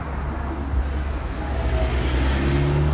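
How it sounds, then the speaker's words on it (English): Steady road traffic noise rumbles in the background, a low continuous wash with a vehicle swelling slightly louder near the end, and no talking. "I'm so sorry about the traffic noise."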